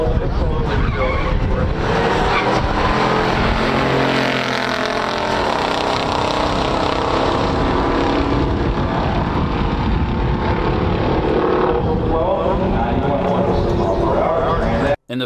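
A stock 1972 Pontiac Firebird Trans Am and a 1968 Hurst Olds at a drag race give a loud, continuous engine roar that builds and carries for about fifteen seconds, then cuts off abruptly, with announcer-style talk over it.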